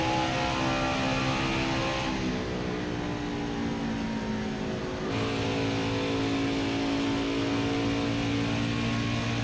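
Race car engine from the NASCAR Heat 5 video game on the Pocono track, a loud sustained whining drone held at high revs. The pitch shifts as the car eases off through a corner and then pulls back up.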